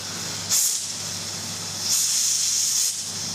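A kitchen appliance vents steam pressure in two sharp, loud hissing bursts, the second one long and sustained, over a steady low hum.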